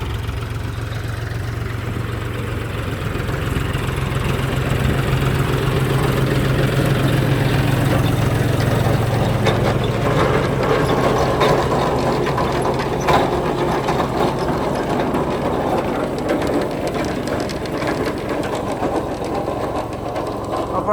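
A tractor engine idles loudly and steadily on a potato farm, a low rumbling drone with rattling mechanical clatter running without a break.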